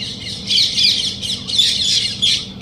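Loud, harsh bird squawks repeat in quick bursts, several overlapping calls close by with only brief gaps between them.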